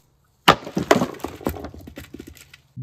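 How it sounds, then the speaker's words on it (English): Pickaxe blows striking a Himalayan salt lamp laid flat, a series of sharp, loud cracking impacts with splintering crunch and small rattling debris, several hits in quick succession followed by fading clinks. "for the first step, which is breaking the piece off, I'm gonna be using a pickaxe"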